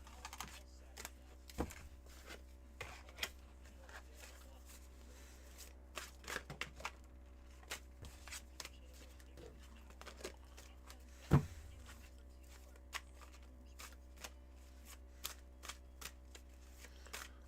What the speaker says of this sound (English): Let me cleanse these cards off for you before I do your shuffle